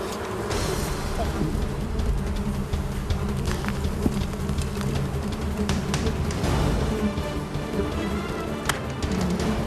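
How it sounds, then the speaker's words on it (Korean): Dense, continuous buzzing of many ground wasps swarming close by, steady and agitated, with scattered clicks and rustles underneath. "수많은 땅벌이 이들 주변을 어지럽게 맴돈다."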